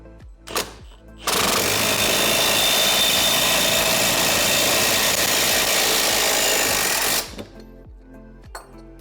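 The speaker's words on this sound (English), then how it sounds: "I'm putting the ball joint remover on the backside, and then this 21mm bolt is going to tighten down and force this unit up" A power impact gun runs the 21mm bolt on a ball joint remover, pressing out a wheel stud on a Camaro rear hub: a loud continuous rattling buzz lasting about six seconds, framed by a few metallic clanks.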